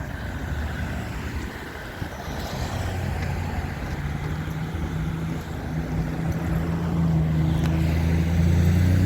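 Continuous rumble of road traffic in North Carolina, engines droning and swelling as cars pass close by, growing louder toward the end, with no voices.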